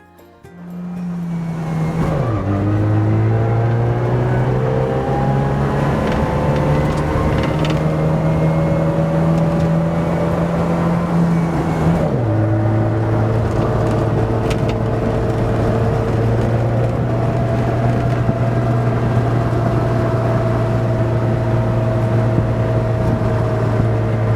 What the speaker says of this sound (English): A Subaru 360 is a 356cc air-cooled 2-stroke.